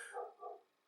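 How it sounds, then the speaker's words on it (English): A dog barks twice in quick succession indoors, faint and somewhat distant, followed by quiet. "I apologise for the barking dog."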